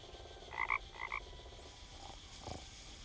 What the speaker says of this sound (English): Maybe the clicker frog.